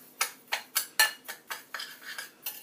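A spoon stirs ingredients in a bowl for an Irish smoked salmon dish, making about ten quick, evenly spaced scraping clinks up close, with no talking.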